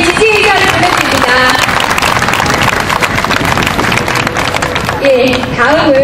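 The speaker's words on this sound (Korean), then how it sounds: "박수로 다시 한번 연대 저희 지지 의견을 보내드립니다." A crowd claps loudly and steadily in support at an outdoor memorial talk concert in front of Daehanmun in Seoul, a dense, close roar of hands with voices mixed in throughout.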